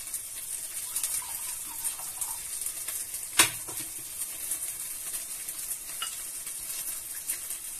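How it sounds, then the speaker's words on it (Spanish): Mushroom water goes into a pan of meatballs, a brief loud splash and hiss in the middle of a continuous light sizzle, with faint stirring clinks around it. "Voy a poner un poco de agua de champiñón."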